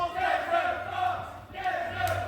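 A crowd at a strength contest chants and cheers loudly in rising, surging waves, with voices roaring together from start to finish.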